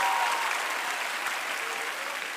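Studio audience on a Brazilian Saturday TV variety show applauds a dance group's performance with full, steady clapping that fills the room and eases slightly toward the end, with a faint whistle-like tone at the start.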